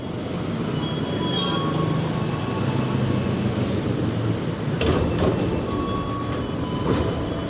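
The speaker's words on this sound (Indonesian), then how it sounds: "Dan ini keretanya sudah datang nih teman-teman, kereta KRL Komuter Lain dengan tujuan Bojonggede." A KRL commuter train bound for Bojonggede rumbles steadily nearby, wheels clattering on the rails, with brief metallic squeals as it rolls into the station.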